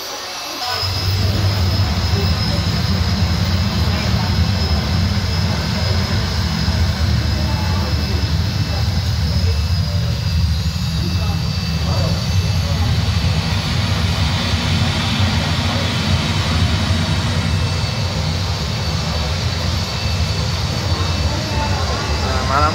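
A model airplane takes off at a large miniature airport display, a loud steady engine roar and whine that swells in after a brief quiet start and holds for about twenty seconds, with faint chatter of people beneath.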